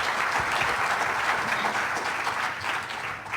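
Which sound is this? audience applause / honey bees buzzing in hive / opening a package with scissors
audience applause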